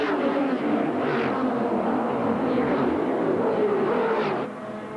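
Racing cars of the 1983 Amscar Series at Amaroo Park Raceway roar past on the opening lap, a dense, loud wall of engine noise with rising whines as cars pass close by.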